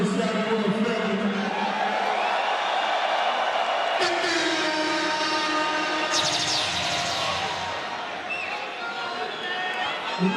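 A large boxing crowd in a Jeddah arena roars and cheers in a sustained, loud wash of noise, with whoops rising over it and voices talking through the din.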